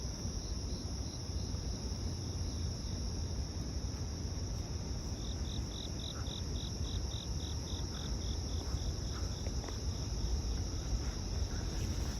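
A chorus of crickets trills without pause in Midtown Manhattan, high pulsing chirps that grow more distinct partway through, layered over a constant low city hum and roar.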